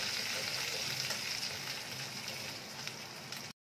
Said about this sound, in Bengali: এখন একটুখানি তেলের মধ্যে হলুদটাও দিয়ে দিচ্ছি। দিয়ে এটাকে ভালো করে একটু ভেজে নিচ্ছি